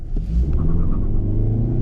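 A 2022 Hyundai Sonata SEL pulls away from a standstill with a little wheel spin, a brief deep rumble of engine and tires heard from inside the car, steady and low for under two seconds.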